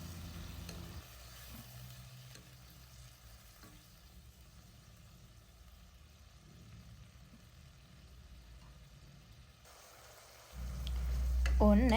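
Beetroot curry simmers with coconut milk in a pan, giving a soft, low bubbling sizzle throughout, ending with a louder rumbling burst near the close.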